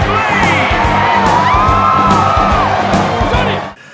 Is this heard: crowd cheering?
yes